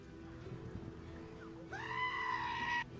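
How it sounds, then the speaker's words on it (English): A meme clip of a screaming goat: after a moment of low background noise, a loud, harsh, human-like bleating scream breaks in and holds for about a second before cutting off abruptly. "I hear screaming goat"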